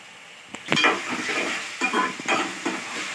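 Egg curry ingredients sizzle and fry in a pan, a bright steady hiss broken by a few sharp stirring scrapes.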